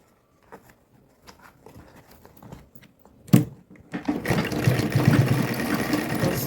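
A sewing machine stitching a simple wallet, first some scattered clicks and handling taps, then a sharp knock before the motor whirs into a steady, loud, rapid stitching run.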